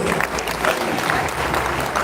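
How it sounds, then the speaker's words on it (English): Audience applause for invited guest lecturers at an academic gathering, a brief, steady wash of clapping from a crowd, moderately loud and continuous throughout. "Please let's give them a wonderful round of applause."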